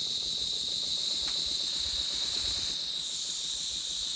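A Clevedon Steam Libra twin-cylinder engine runs on compressed air at low pressure, giving a steady, loud hiss with no clear chuffing beat.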